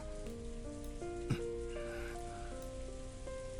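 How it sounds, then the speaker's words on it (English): Steady rain falls softly in the visual novel Umineko, a quiet continuous patter beneath faint background music tones, with no voices. "Butler stood alone in the rose garden maze, letting the rain quietly fall on him."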